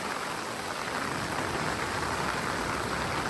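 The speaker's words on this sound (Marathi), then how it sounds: "खूप जोरदार पाऊस पडत आहे" Heavy monsoon rain during a Konkan flood pours down in a dense, even hiss, steady and unbroken, with no voices.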